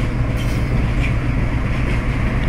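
A WDG4 diesel locomotive hauls freight coal wagons past, with a steady loud rumble of engine and rolling wheels and faint intermittent wheel squeals throughout.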